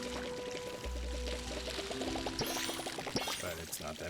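Crops are watered with a watering can in the farming game Palia, giving a close, steady pour that runs through the stretch with brief clicks and soft game tones, while someone talks over it.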